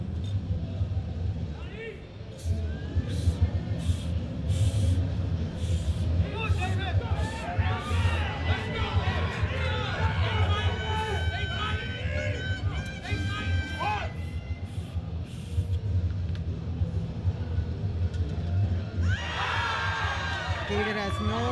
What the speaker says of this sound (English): The crowd cheered him all the way down and all the way up.